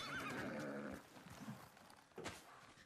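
A horse in the video game Ghost of Tsushima lets out a loud, wavering whinny up close, followed by a few softer snorts and a brief hoof clatter.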